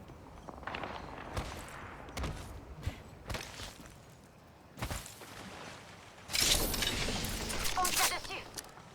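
Enemy gunfire in an Apex Legends match comes as scattered sharp cracks and thuds, fairly faint, ending in a louder burst of crackling shots and impacts.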